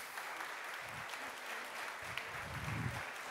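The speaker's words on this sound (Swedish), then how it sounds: "Nu kan han få en applåd." Audience applause at a Swedish cultural policy day event, a steady, dense wash of clapping from a seated crowd lasting throughout, moderately loud with no speech over it.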